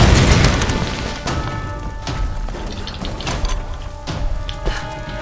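A grenade explodes in the PC game Tomb Raider, a heavy boom at the start that fades into rumbling debris and scattered smaller bangs, with no talk.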